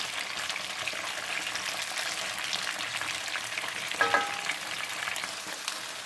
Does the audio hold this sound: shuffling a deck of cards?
no